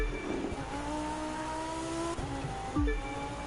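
A car in The Crew 2 drifts across ice inside a tunnel, its engine holding steady tones that shift pitch as it slides, with a sharp tire squeal and a sudden drop near the end and no talking.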